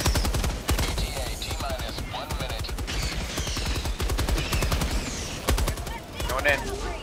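A Gatling gun call-in firing in a video game, a loud, rapid, continuous mechanical rattle of shots close by, with brief gaps and faint overlapping game sounds.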